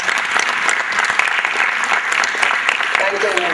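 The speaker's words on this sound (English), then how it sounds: "I hope you can give a good round of applause for it." A crowd applauds loudly and steadily, with some voices faintly mixed in toward the end.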